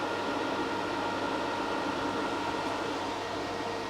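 An R Tech TIG 160FPP welder sits powered up with its cooling fan running, a steady, even whir and hiss that holds constant throughout, with no voices.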